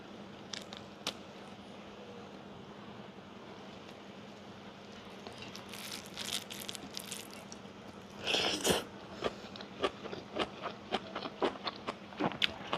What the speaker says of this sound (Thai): มากินใบมะระกอกันนะคะ